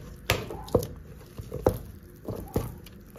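Pasta dough being mixed by hand with a splash of water, a series of soft wet squishing and patting sounds at an uneven rhythm, close and fairly quiet, with no talking.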